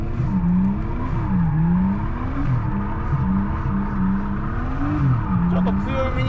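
Drift car engine revving as the accelerator is pressed during drift training, a loud, sustained engine drone rising and falling in pitch under continuous talk.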